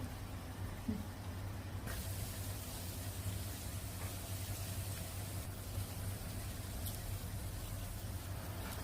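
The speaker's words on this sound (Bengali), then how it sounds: "এভাবে আমি সবগুলো ভেজে নিব।" Broccoli and onion fritters deep frying in oil, a faint, even sizzling hiss that runs steadily throughout with no voices.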